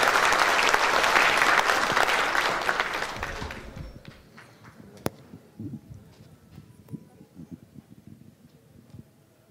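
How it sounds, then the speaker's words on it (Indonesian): Applause from an audience at a banking trade finance and treasury customer gathering, loud sustained clapping for about four seconds that then thins out to scattered claps and faint room noise. "tepuk tangan yang meriah untuk Ibu Afiliani"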